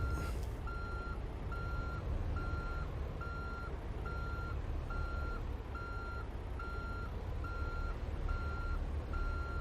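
A truck's reversing alarm beeps in an even, repeating rhythm while backing a trailer in American Truck Simulator, steady tones over a low engine rumble, with no talking.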